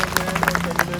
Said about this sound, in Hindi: तालियां करें।